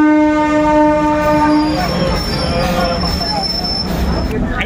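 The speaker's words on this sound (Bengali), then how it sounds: "হাওড়া পুরী বন্দে ভারত এক্সপ্রেস।" A Howrah–Puri Vande Bharat Express train sounds a loud, sustained horn for a couple of seconds. The horn gives way to a steady rumble of cars passing close by as people talk over it.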